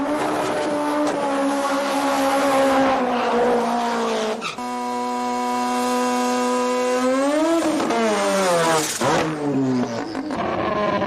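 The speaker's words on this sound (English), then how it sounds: "the cars have fired up in the burnout areas" Pro-modified import drag race cars fire up in the burnout area at ATCO Raceway, loud revving engines rising and falling in pitch, with one sharp roaring climb partway through.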